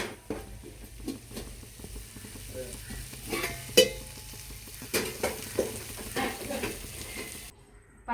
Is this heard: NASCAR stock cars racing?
no